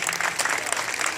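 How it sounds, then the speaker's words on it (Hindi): A burst of applause from a crowd, dense clapping that stays loud and steady throughout. "तालियां।"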